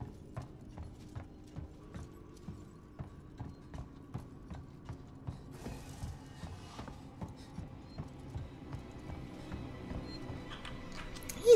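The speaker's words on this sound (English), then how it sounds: "He's totally not gonna hear me stomping around like this." Heavy, regular stomping footsteps of a player character in a dark sci-fi alien horror video game, striking at a steady walking rhythm, close and solid, with no talk.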